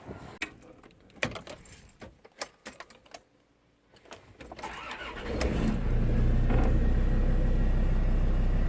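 A Land Rover Discovery 2 TD5 diesel with its exhaust removed: scattered clicks and rattles, then the engine catches and settles into a loud, steady, rumbling idle for the final few seconds.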